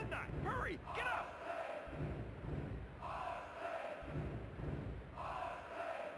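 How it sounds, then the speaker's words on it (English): A roaring, cheering wrestling arena crowd in the PlayStation game WWF Attitude surges in continuous, loud waves of yelling, with a few dull thuds mixed in. "This crowd is going berserk."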